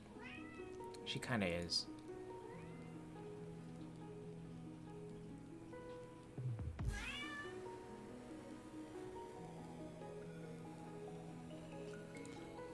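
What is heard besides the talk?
cat meowing loudly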